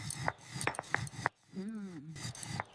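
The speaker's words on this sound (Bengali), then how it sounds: "বিরিয়ানির আলু কাটছি" Potatoes for biryani being cut with a knife on a board: a series of sharp, close chopping taps, a short pause, then a brief voice-like sound before the taps resume.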